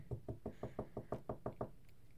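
Someone raps on a door at night with about ten quick, evenly spaced knocks, soft and somewhat distant in a quiet room.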